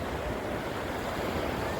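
A mountain waterfall stream near Gangtok rushes in a steady, loud wash of water. The sound is dense, broadband and continuous, with some wind buffeting and no talk.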